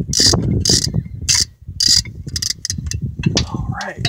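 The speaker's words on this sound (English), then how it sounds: "we're going to go ahead and put ourselves a good old ratchet on there" A ratchet clicks in several quick bursts as it turns a bolt during removal of a Mk4 CV axle on an automatic transmission, loud and close, with people talking in between.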